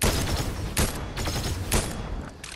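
Gunfire in the Fortnite video game, bursts of rapid shots with short gaps between them, loud and close, with no talk over it.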